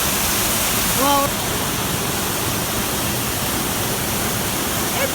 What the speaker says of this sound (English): it's a cute little waterfall.